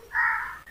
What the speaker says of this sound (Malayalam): കാക്കൊക്കെ കൂട് കൂട്ടുന്ന സ്ഥലങ്ങളാണ് ഈ ഏരിയകൾ